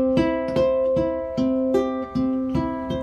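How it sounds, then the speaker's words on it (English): Ukulele notes picked one at a time in a repeating rolling pattern, bright plucked tones ringing steadily with no voices. "So the typical down and back up pattern that you use on guitar sounds like this on ukulele."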